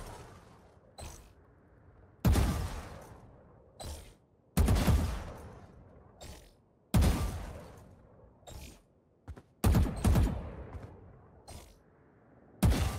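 Gunfire in Valorant firing in short two-shot bursts, loud and close, repeating about every second or two with sharp attacks and brief decays, no talking.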